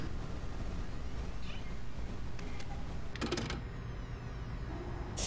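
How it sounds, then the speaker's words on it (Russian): Faint cat meows sound in the horror fan game ELLIE'S, based on Five Nights at Freddy's, brief and quiet against a steady background hum with a few clicks. "Я слышу мяукающие звуки."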